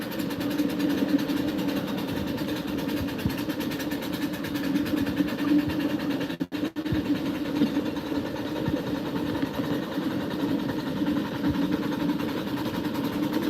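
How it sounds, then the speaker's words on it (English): A steam locomotive on the White Creek Railroad runs at night with a continuous loud mechanical drone and rapid rhythmic chuffing, steady throughout apart from a brief dip, with no talking. "the steam engine is relatively loud"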